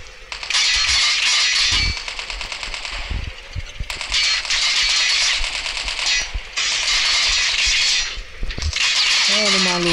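Machine gun fire in the Call of Duty Mobile video game, loud rapid bursts of automatic shots in several long stretches, with a voice speaking briefly between them.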